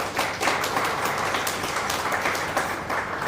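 An audience at a young authors' book launch applauding, a steady wash of many hands clapping, moderately loud and sustained for the full few seconds without speech.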